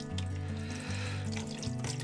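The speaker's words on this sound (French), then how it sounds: "l'eau du robinet, pour stopper l'action du révélateur" Tap water runs over a collodion wet-plate ambrotype to stop the developer. It makes a steady, close splashing stream that lasts throughout, with a sustained low tonal hum underneath.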